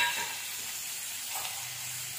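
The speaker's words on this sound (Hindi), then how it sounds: "और अब इनको हम अच्छे से फ्राई करेंगे, अनियन के ब्राउन होने तक हम इसे फ्राई करेंगे।" Onion with green chillies and a piece of ginger fry in a pan for a masala omelette, giving a steady, close hiss of sizzling oil throughout.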